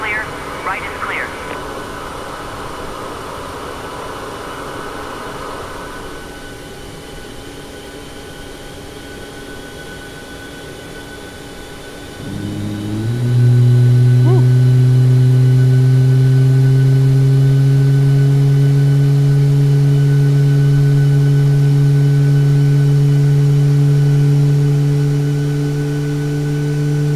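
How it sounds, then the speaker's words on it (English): Boeing 737 MAX engine start in the iFly flight simulator, a quiet cockpit hum giving way to a deep rising turbine drone and steady whine that grows loud and holds. "Absolutely beautiful engine start sounds here"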